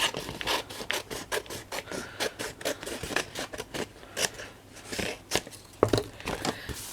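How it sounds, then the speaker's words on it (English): Scissors snip and scrape through a sheet of paper being cut into a square, a quick, close, rhythmic run of crisp cuts with faint rustling and no talking. "So I'm just going to cut this into a square."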